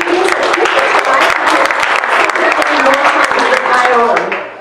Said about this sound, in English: So please give these people a round of applause.